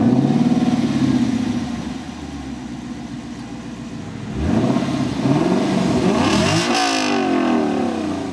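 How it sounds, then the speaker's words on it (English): A 2020 Lexus LC500's V8 engine revs up with a deep burbling exhaust, settles to a lower idle-like drone, then climbs again through two loud rising sweeps, close and with no talking. "this Lexus's V8 engine could have an exhaust note that punches birds out of the sky"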